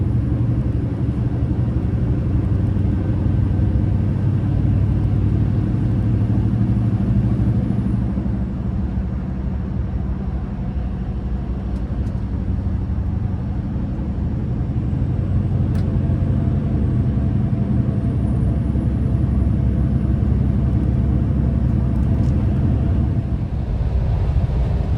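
Scania truck being driven on European roads, its engine giving a low continuous rumble with subtle shifts in pitch as the gearbox shifts up and then immediately back down under acceleration.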